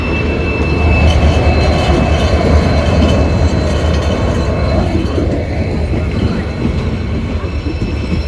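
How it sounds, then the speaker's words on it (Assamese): A passenger train rolls steadily into a station in Assam, its loud continuous rumble and rail clatter filling the scene from close by with no talk over it. "ফাইনেলি আমি ৱেইট কৰি থকা ট্ৰেইনখন আহি পালে এতিয়া"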